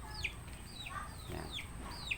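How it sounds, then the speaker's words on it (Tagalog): Large backyard chickens cluck in a quiet string of short calls, one every half second or so, against a low background hum. "Malaking manok yan."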